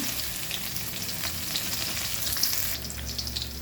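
Garlic and urad dal fry in hot oil with a steady, close crackling sizzle, along with light stirring noises throughout.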